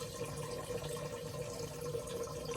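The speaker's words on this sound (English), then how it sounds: "Filled it up with water" Water pours from a water bottle into a water bowl in a ball python enclosure, a faint, steady trickling splash close by with no voices.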